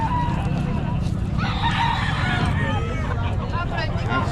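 A Hatch gray rooster crows once amid a noisy gathering, with speech babble and chatter throughout and the crow standing out mid-clip over the crowd.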